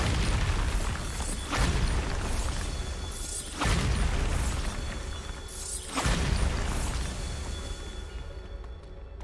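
Bombarda blasting spell explosions in the Hogwarts Legacy video game: three heavy booming bursts a couple of seconds apart, each with a rumbling whoosh, over a constant loud game ambience with no speech.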